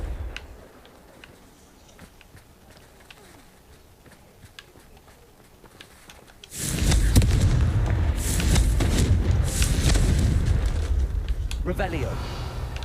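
Confringo blasting spell explosions in Hogwarts Legacy: after a quiet stretch with faint ticks, a sudden loud roaring burst of blasts and crackling booms that sustains to the end.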